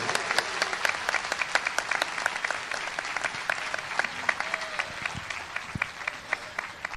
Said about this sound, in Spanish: Dale un aplauso a ese Dios vivo al que tú le sirves.